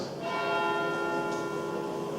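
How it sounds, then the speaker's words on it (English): Church bells ring in a sustained, loud wash of overlapping tones, with no pauses between strikes. "Let the bells ring."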